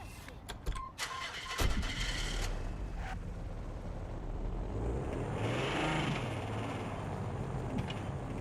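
A car engine starts in Watch Dogs Legion on PS5: a few clicks, then the engine catches and settles into a steady low rumble that rises slightly in pitch as it revs, with faint voices in the background.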